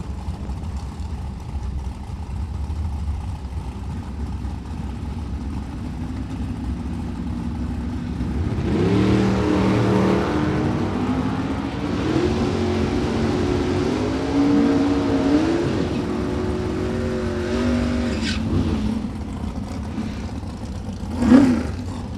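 Drag racing cars launch down the strip at a Friday shootout, engines building from a low idle into a loud, rising roar that holds for several seconds, then fades, with a sharp burst near the end.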